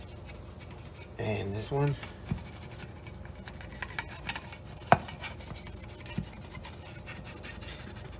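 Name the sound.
spatula scraping around edges of deep dish pizza pans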